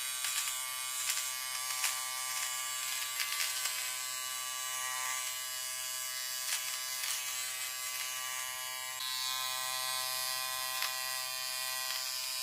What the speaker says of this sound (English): Now let's try shaving.